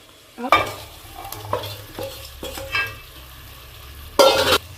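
Paneer being stirred into biryani masala and curd in a pan, heard as a run of close spoon scrapes and clatters with a faint sizzle underneath, ending in a louder burst of scraping.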